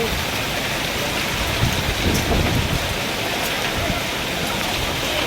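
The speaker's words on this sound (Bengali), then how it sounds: "এরকম বৃষ্টি হয়ে শিল করছে" Heavy rain mixed with falling hail pours onto a road, a loud, dense, unbroken roar of water with faint patters on top, and no clear voices.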